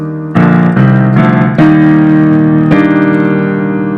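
Sustained piano chords of a song, a few held chord changes struck in steady succession, played alone and close with no talking.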